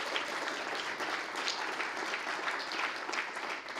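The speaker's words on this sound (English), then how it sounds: "Please give another applause to all the speakers today." Sustained audience applause fills a conference hall after talks, a steady dense patter of many hands clapping at even volume throughout, with no voices over it.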